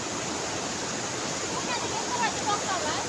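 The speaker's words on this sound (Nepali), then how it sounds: "पानी यत्रो ठुलो छ अन्त कहाँ सक्छ र पानी कस्तो निलो छ यहाँ" A large river of blue water rushing steadily past rocky banks, a broad continuous roar holding even from start to finish with no break.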